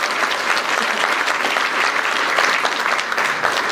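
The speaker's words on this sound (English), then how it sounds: "Let's give him a round of applause." Steady, dense applause from a sizable crowd fills the whole stretch, loud and continuous without pause.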